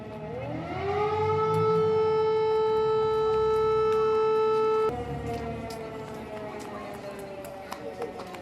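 An air raid siren in Ternopil, Ukraine, winds up and holds a loud, steady wailing tone for several seconds, then drops in pitch and fades slowly.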